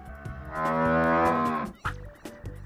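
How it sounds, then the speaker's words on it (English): A cow gives one long, loud, close moo that holds steady and then breaks off, followed by a few short grunting calls, set over a light background of music. "Cow."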